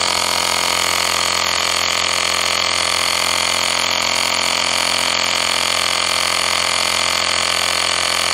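A Xiaomi 1S cordless air compressor running flat out to inflate a Harley-Davidson motorcycle tire, a loud, unbroken buzzing drone close by that holds steady throughout, no voices.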